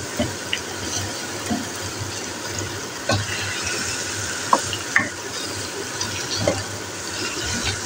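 A pumpkin and chana dal curry is stirred in a pan, wet sizzling with irregular scraping clacks of the spoon against the pan, close and without talk.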